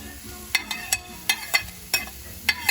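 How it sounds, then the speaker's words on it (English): Onions and ground turkey sautéing in a pan, a soft, low sizzle broken by about eight sharp scrapes and clinks of a utensil stirring against the pan at an uneven pace. "while I'm sauteing the onions and turkey and all my good stuff"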